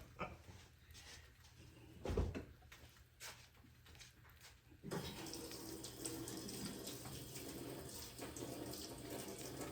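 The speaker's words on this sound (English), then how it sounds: "Let me go rinse this off in the sink." Sink tap running as a griddle item is rinsed, quiet handling and a thump at first, then a steady close rush of flowing water.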